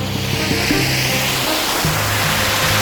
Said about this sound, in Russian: а с другой стороны водопад.